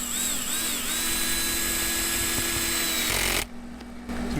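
Power drill on a light torque setting driving number 10 by 1 inch screws during an RV shower repair, a close, loud whine for about three seconds that ends in a brief lower clatter.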